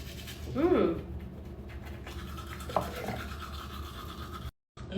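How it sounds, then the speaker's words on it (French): Teeth being brushed with a toothbrush and cherry-blossom flavoured toothpaste, close and soft scrubbing strokes with light rustling, and a brief vocal sound early on. "vais brosser les dents."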